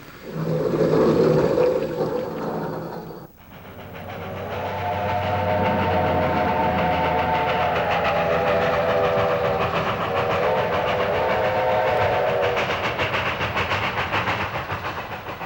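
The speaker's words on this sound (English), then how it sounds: "A steam locomotive taking on water." A steam locomotive stands at a railroad water tank taking on water, giving a steady broad rushing roar with a whistle-like tone, a brief louder burst at the start, then a sudden dip and a long even hiss.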